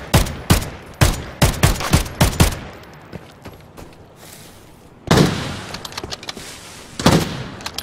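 Bolt-action rifle gunfire in the video game Arena Breakout: Infinite: loud, sharp shots in a rapid cluster, a short lull, then more cracking bursts with echoing tails.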